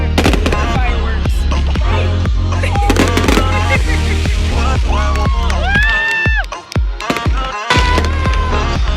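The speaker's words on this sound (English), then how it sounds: "These are fireworks." Fireworks burst at a baseball game in a rapid series of loud booms and crackles, with music playing and people's voices in the background.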